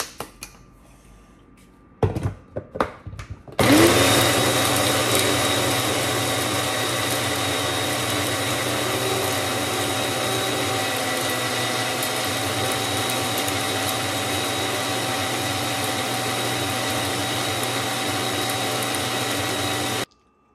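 After a few clicks and knocks, an electric grinder whirs up to a loud, steady motor whine while powdering spices for a prawn curry, then cuts off abruptly at the end.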